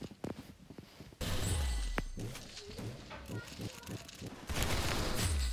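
Rapid bursts of gunfire from the Roblox game Arsenal, loud and dense with booming impacts, overlapping game effects, and brief voices underneath.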